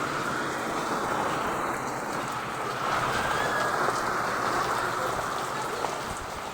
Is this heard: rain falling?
yes